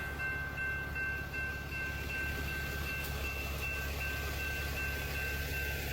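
Train at railroad tracks in the evening, a steady continuous rumble of rolling rail cars with a faint high whine, heard from close by without talk.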